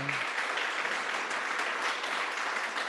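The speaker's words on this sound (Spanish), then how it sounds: "un aplauso fuerte." A church congregation at an evening men's meeting applauds loudly, a dense steady wash of clapping that fills the room for about three seconds without pause.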